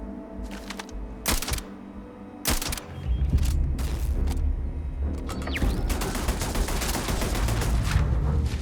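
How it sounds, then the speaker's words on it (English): Sustained turret gunfire in the Starfield space game, a few sharp separate shots first, then a dense continuous barrage that builds and holds loud to the end. "Yo, that turret's pretty good."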